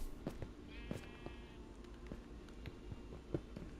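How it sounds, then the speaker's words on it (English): A sheep bleats in Minecraft after being pushed into water, short wavering bleats heard faintly amid soft ambient game sounds and a few quiet clicks. "I pushed the sheep into the water."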